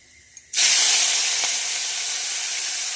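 Boiled chalta (elephant apple) dropped into hot oil with panch phoron, bay leaf and dried red chilli: a small click, then a sudden loud sizzle that settles into a steady close hiss.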